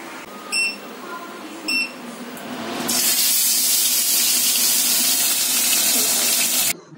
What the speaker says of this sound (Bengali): তো দেখো মাছগুলো ভেজে নিচ্ছি